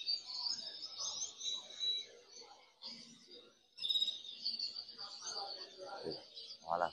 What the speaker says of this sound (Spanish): Aquí hay pájaro, ¿eh? Aquí unos cuantos.